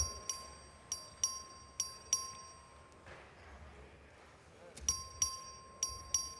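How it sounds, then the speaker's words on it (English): A voting bell in the Texas House of Representatives chamber rings in a quick repeating pattern of sharp metallic strikes, pauses for a couple of seconds of room noise, then resumes ringing. "Clerk, ring the bell."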